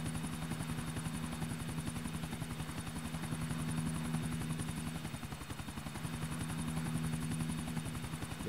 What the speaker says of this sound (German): das ist ein Flugzeug. Das ist ein Helikopter.